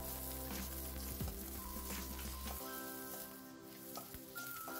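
Garlic and onion sauté in hot oil with a soft continuous sizzle, accompanied by steady hum from a stove or kitchen appliance and a few light utensil taps.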